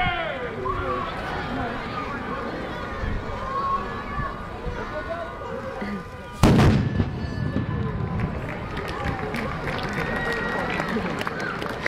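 Anvil battery salute fired for Victoria Day, a single heavy blast booming out at an outdoor ceremony amid crowd chatter and talk, followed by lingering echo and noise.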